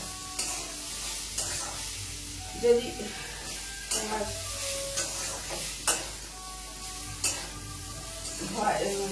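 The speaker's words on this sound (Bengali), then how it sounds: "আর এদিকে দেখো বরবটিটা ভাজা গেছে, আর একটু ভালো করে ভেজে গরম করে নিই" Yardlong beans frying and being stirred in a pan, a soft sizzle underneath intermittent scrapes and clinks of the spatula against metal, with someone briefly talking quietly.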